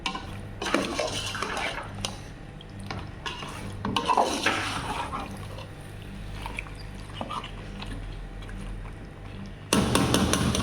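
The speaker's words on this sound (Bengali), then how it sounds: "আগে মাংসটা কিছুক্ষণ কষায় নিব" Meat being stir-fried in a cooking pot, a spoon scraping and clanking against the metal in a steady, busy rhythm of close clatters over a low hum, with a louder burst near the end.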